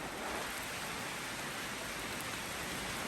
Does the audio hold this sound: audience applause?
no